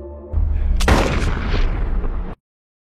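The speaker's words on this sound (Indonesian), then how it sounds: "Bahkan dia juga tidak memberikan pilihan dan langsung menembak mati Hall" A single loud gunshot as a man is shot dead in a film, a sharp burst with a booming tail layered over a low dramatic music bed, ending abruptly.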